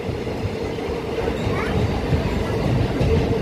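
Steady low rumble of a train entering a tunnel between Siliguri and Cooch Behar, a continuous heavy roar with faint squeal, no pauses across the stretch.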